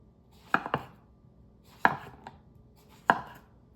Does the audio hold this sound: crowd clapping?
no